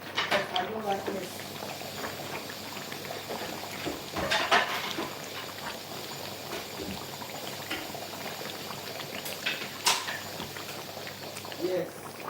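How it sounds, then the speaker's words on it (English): Palm nut soup with chicken bubbles in a pot with a steady boiling hiss and gurgle, thickened by occasional louder bursts and clatters, while a person talks over it. "we're gonna leave this to boil a bit"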